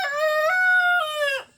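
A rooster named Junior crows loudly and close by, one long sustained harmonic call with a rising start and a falling end, heard alone.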